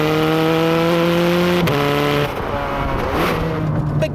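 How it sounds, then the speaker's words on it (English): Ferrari 430 Scuderia engine holding a steady high note, then a sharp break at the gearshift before the revs pick back up, loud and close with no talking. "This is what a Scuderia shifts like."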